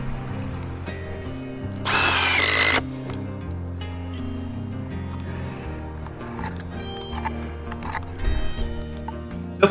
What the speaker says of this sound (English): I've been using my 20-volt DeWalt 7 1/4 inch circular saw, and it's been doing a really good job in cutting these landscape timbers.